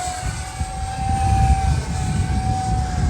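A T-33 50 mm EDF model jet makes a fast flyby pass, its steady ducted-fan whine swelling loud and close, then holding strong as it passes, with no talking.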